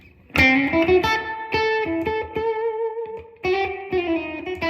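A Fender '68 reissue Twin amplifier overdriving on its own at high channel volume rings out gritty, distorted guitar chords, struck several times and left to sustain, loud and near with no voices.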